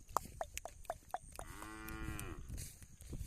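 A cow lets out one close, drawn-out moo after a quick run of sharp clicking sounds.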